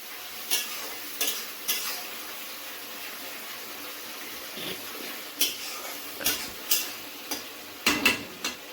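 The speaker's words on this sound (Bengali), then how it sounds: "ভালো করে নাড়াবেন, এইভাবে নাড়ান চড়ান" Chicken kosha masala frying in a pan under a soft continuous sizzle, with a spatula scraping and stirring in irregular strokes, several sharp scrapes clustered near the end.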